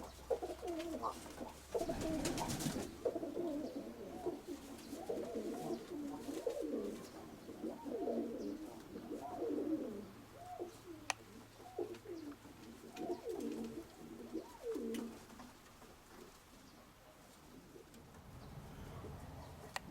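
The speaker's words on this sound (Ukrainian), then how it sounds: "вже славно звісний голуб Стаса Петровича" Pigeons coo repeatedly in soft, rolling calls, close by, with faint background rustle and occasional clicks, no voices.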